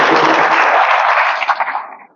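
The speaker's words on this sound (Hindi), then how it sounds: "बहुत अच्छा, ताली तो बजाइए एक बार।" An audience at a talk on making life easier claps together in a loud, sustained burst that thins and fades away over the last half second.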